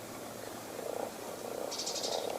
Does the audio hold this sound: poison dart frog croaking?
yes